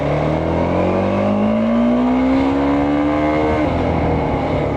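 A TVS Apache RTX 300 motorcycle accelerates hard in first gear. Its loud, close engine note climbs steadily in pitch for several seconds, then eases off, with no talking.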